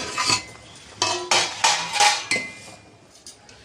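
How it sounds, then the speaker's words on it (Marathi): A metal lid goes onto a pot of simmering amla murabba, with several close clanks and rattles of metal on metal in quick succession before it settles. "मी आता ह्याच्यावर झाकण ठेवते"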